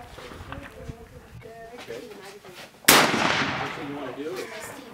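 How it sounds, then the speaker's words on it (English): A Mosin Nagant rifle fires once at an outdoor shooting range, a sharp, loud crack about three seconds in that rings out afterward, with people talking before and after the shot. "It is a functioning rifle."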